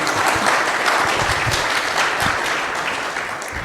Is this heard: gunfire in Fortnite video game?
no